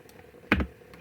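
A single tab key pressed on a computer keyboard while coding a C# calculator, one short sharp click standing alone against quiet room noise.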